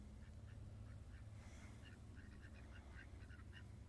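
Ducks near a pond quack in quick, faint bursts at a distance, repeated in a loose chattering rhythm over steady outdoor background noise.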